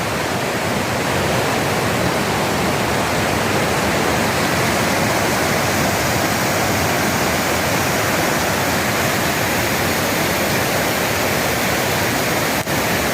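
Foamy rain-season stream rushing down over rocks, a loud, steady broadband roar of cascading water that holds constant and close throughout with no voices.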